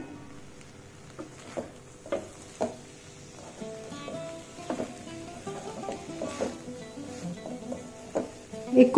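Cluster beans and prawns cooking in a pan for a Konkan dish, a soft steady sizzle broken by frequent clinks and scrapes of stirring that grow busier toward the end.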